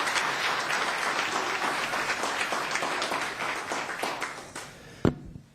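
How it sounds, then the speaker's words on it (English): Audience at a town council meeting applauds, a steady wash of many hands clapping that fades out near the end with a final sharp knock. "Let's give him one more round of applause."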